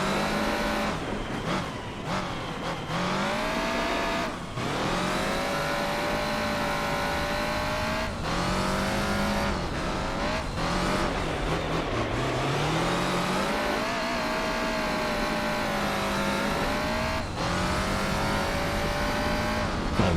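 A 1990s Toyota Celica with pop-up headlights racing in Gran Turismo 4 holds a loud, continuous engine drone throughout, its pitch climbing and dropping sharply through repeated gear changes, with brief tire squeal and no voices.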